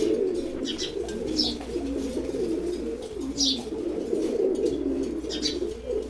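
A male pigeon coos in repeated low, rolling phrases nearby, with a few brief higher chirps mixed in and no speech.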